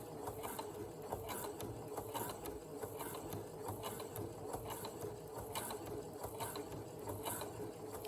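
A sewing machine stitches piping onto fabric at a slow, pedal-controlled speed, its needle mechanism ticking in a steady, close, rapid rhythm that runs without a break.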